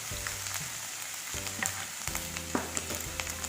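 Crushed garlic and ginger hit hot oil in a pan for a creamy chicken curry, a quiet crackling sizzle broken by several scraping stirs and clinks, with no talking.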